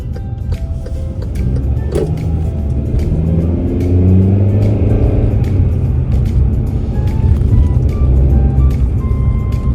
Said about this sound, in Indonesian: Kita naik satu mobil aja gitu ke tempat kerjanya